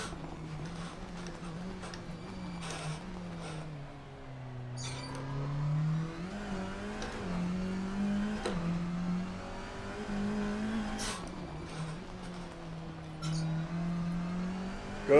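A race car engine in the Assetto Corsa video game, revving steadily with pitch climbing and dropping through gear changes, continuous and prominent with no talk.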